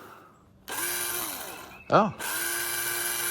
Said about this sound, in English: We got this drill.